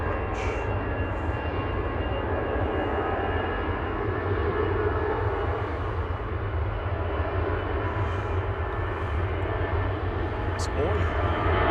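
An EasyJet airliner approaching Manchester Airport to land gives off a steady, distant engine drone that fills the whole stretch, while people talk over it.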